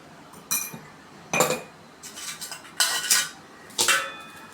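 Metal utensils clink and tap against a bowl as salt is mixed into urad dal bonda batter, making five or six sharp, separate bursts with quiet gaps between them.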